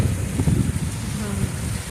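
Steady rain pours down on a truck in a pumpkin field with a dense, hissing patter, mixed with gusty wind noise and a low rumble, continuous for the whole moment.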